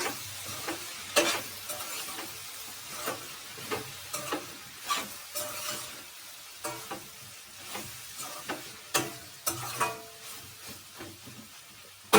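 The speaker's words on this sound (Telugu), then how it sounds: "మధ్యలో మనము ఇలా మూత తీసి ఒకసారి కలుపుతూ ఉండాలండి" Broad beans (chikkudu kaya) frying in a pan are stirred with regular scraping strokes over a steady, soft sizzle, with no voices.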